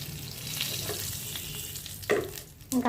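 Curry leaves and asafoetida sizzle as they hit tempering oil for a brinjal and ivy gourd chutney, a steady close frying hiss with a few sharp crackles and spoon stirs toward the end.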